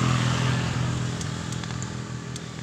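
Motorcycles climbing a steep road, engines droning under load with a mix of nearby rumble and clatter, some small sharp clicks and knocks, fairly faint and blended together for under three seconds.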